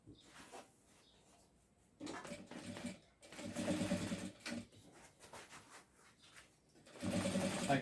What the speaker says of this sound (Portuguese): Aí agora eu vou fazer a costura dos bolsos aqui, ó, de acordo com a medida aqui.